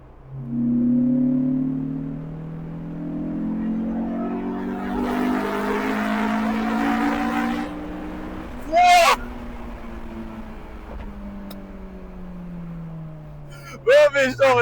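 A Honda S2000 driving, its engine droning and rising in pitch through long pulls, heard from inside the car, with a few short sharp sounds near the end.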